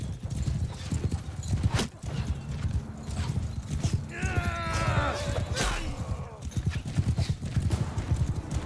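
Horse hooves clip-clopping in the medieval combat game Mount and Blade Bannerlord, a steady rapid gallop of loud thuds with a whinny partway through, over battle noise.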